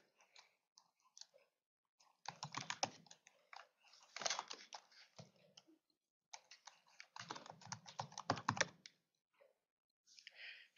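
Close computer keyboard typing in quick clattering bursts with short pauses between, as an email address is entered, crisp and alone with no talking.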